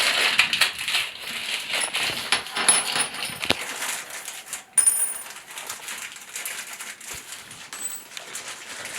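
Metal toilet bolts and their small hardware pieces are pulled from a package and handled, giving close, quiet clinks, rattles and crinkling with a few sharper metallic taps.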